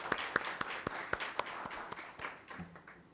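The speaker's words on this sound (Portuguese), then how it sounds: "uma salva de palmas, por favor, à deputada." An audience at a Brazilian parliamentary debate session claps for a female deputy, with a few sharp, evenly spaced claps close by that give way to softer, scattered applause.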